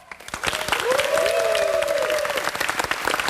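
A studio audience at a live television broadcast breaks into sustained clapping as a guest appears, dense and even throughout, with a drawn-out voice-like tone rising and falling over the middle.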